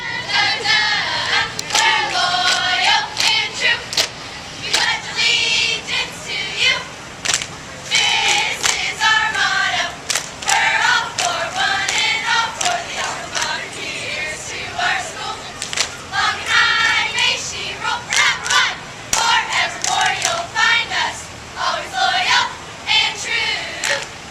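High school cheerleaders shout rhythmic chants in bursts during the 2015 Lassen County Fair parade in Susanville, loud and close, with crowd noise around them for the whole stretch.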